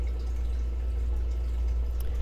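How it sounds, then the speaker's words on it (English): Water runs continuously in a zebrafish breeding lab, a steady wash of noise over a deep, constant low hum with no voices. "Just listen to the sound of water."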